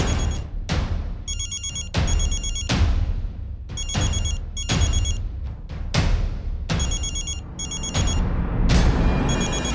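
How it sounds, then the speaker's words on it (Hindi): A mobile phone rings loudly in a domestic sitcom scene, bright electronic ringtone bursts repeating in a steady pattern, punctuated by heavy booming hits between rings. "फोन बज रहा है आपका, उठाइए पहले।"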